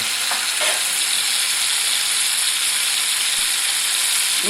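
Onion paste sizzles steadily in a hot pan, a dense continuous crackle and hiss with a few brief scraping stirs near the start and end, no voices.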